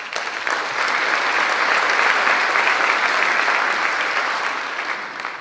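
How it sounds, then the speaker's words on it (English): A graduating high school class of 2025 applauding themselves at their commencement, loud, sustained, dense clapping from a large crowd that holds steady before easing slightly at the end. "Class of 2025, take a moment to applaud yourselves."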